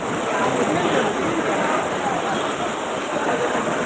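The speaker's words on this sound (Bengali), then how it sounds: "এখানে ভালো বৃষ্টি পড়তেছে এখানে" Steady, dense hiss of heavy rain pours down without a break, loud and close, with a constant high whine above it.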